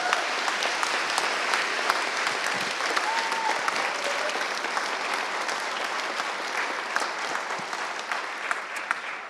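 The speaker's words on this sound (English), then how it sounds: "we should give the rookies a round of applause for being awesome" Conference audience applauding rookie speakers at a security event's closing ceremony: sustained, dense clapping from a large crowd, loud and even throughout with scattered sharper individual claps standing out.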